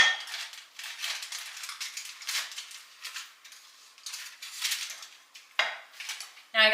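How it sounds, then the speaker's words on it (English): Metal pan and utensil clatter as a bacon-wrapped stuffed chicken is set into a sprayed baking pan, a series of close, light clinks and scrapes spread across the clip, ending in a sharper clank. "So I'm just going to set it in my pan that has been sprayed."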